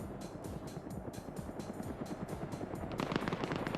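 A helicopter in a military video game, its rotor beating in a steady rapid chop, fairly loud and sustained, with extra bursts of gunfire-like crackle joining toward the end.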